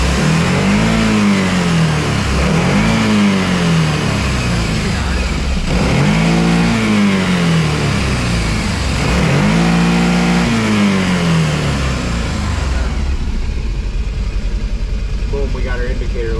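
UTV engine with a clogged air filter accelerating repeatedly, close loud revs rising in pitch in three or four surges, then settling to a steady drone.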